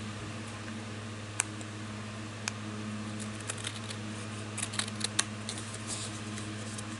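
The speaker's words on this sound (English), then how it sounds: "Just take your long-handled scissors and put your blade's butt up against it." Long-handled scissors snip around a sparkly Christmas card tag ornament, making a few faint, crisp clicks scattered over a steady background hum.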